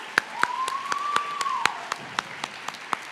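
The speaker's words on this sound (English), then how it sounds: "Round of applause for those speeches." Audience at a high school graduation ceremony clapping for student speeches: scattered, fairly evenly spaced claps from a few hands over a steady room hum, with a thin whistle-like tone running through the middle.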